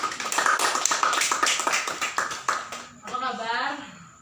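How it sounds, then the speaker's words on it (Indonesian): Applause for a mother being invited on stage at a reflection event, a dense run of clapping with talk and crowd voices mixed in, then fading as a voice speaks. "Tepuk tangan."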